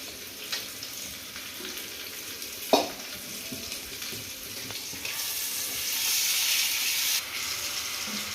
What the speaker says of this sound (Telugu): జీలకర్ర, షాజీరా, లవంగాలు, యాలకులు వేసుకుందాం.